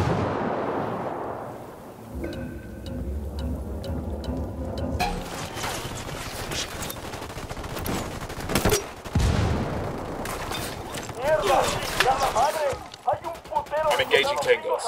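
Gunfire from the Ghost Recon Wildlands video game: bursts of rifle and automatic weapon shots crack repeatedly and at varying distances, mixed with game effects. Voices can be heard amid the shooting.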